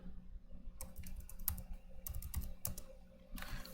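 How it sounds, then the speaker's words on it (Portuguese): A computer keyboard is typed on in bursts of quick clicking keystrokes, fairly faint and close, over a steady low room hum with no talk. "Então eu prefiro estar digitando para vocês aqui"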